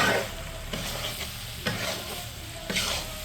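Chicken masala being stirred in a clay pot, with several scraping strokes over a soft continuous sizzle, close and clear.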